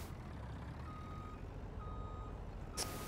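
A truck in Farming Simulator 2019 backs up, its reversing alarm sounding steady repeated beeps over a constant low engine rumble, with a brief hiss of air near the end and no speech.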